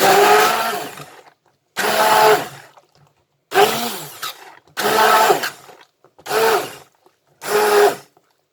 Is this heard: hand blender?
yes